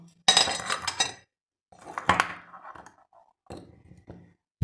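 Metal spoons clink and scrape against a bowl of pancake batter in a few separate bursts as sugar is added, with short quiet gaps between them.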